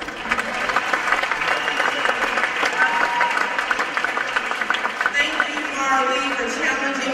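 Audience applause from a church civic gathering fills the room, sustained dense clapping with some cheering voices mixed in, steady throughout.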